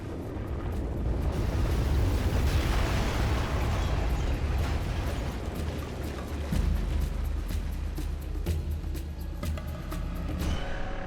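A deep, continuous rumble portrays the massive magnitude 7.7 earthquake that struck Gujarat, India, in 2001, destroying Bhuj; a loud, broad roar with crackling debris-like texture throughout, heaving and swelling without pause.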